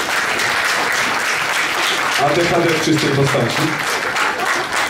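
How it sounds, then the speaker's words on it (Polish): An audience applauds steadily and loudly at a live music show in a club, while a voice talks briefly over the clapping. "Można brawa, śmiało."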